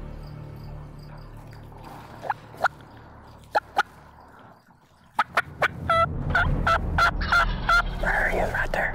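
A wild spring turkey gobbles in several sharp, rattling bursts, fairly clear at middle distance over quiet outdoor background, with a rising rustle near the end.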